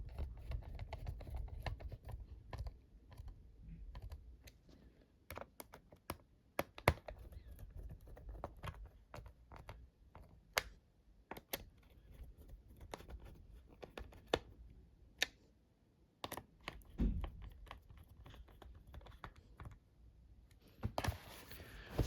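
Someone types on a ThinkPad T14 Gen 1 laptop keyboard, a quiet run of soft, uneven key clicks and taps close by, with occasional sharper presses and no talking.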